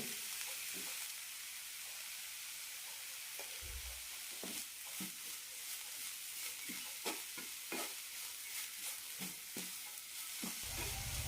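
Carrot and cabbage being sautéed with salt for a vegetable chapati roll filling, a soft continuous sizzle under frequent spatula scrapes and stirs against the pan, close and fairly quiet, with no voices.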